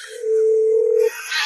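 A phone call tone sounds as one steady, loud electronic beep lasting about a second, followed by a brief burst of hiss. No one speaks.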